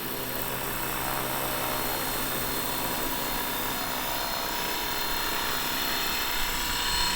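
A large Fly Wing FW450L V3 RC helicopter comes in to land outdoors, its rotor and motor giving a loud, steady whirring roar that fills the whole stretch without pause or speech.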